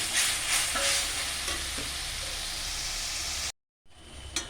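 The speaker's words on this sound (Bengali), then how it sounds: "এবারে এরপরে আমরা আদা রসুনের বাটা দেব। আদা একটু নেড়ে নেব।" Ginger-garlic paste being stirred into chicken in a hot pan, a dense, loud sizzle with hissing spatula movement that runs continuously, then cuts briefly to silence before the frying resumes.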